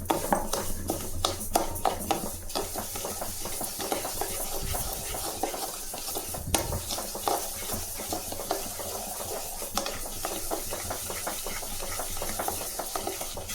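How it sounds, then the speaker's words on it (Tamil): Foxtail millet dry-roasting in a pan on the stove, stirred continuously with a steady scraping rustle of grains against metal, punctuated by frequent clinks of the spoon against the pan under a constant low burner hum. "திணை 250 கிராம், இதையும் வறுத்துக்கலாம்."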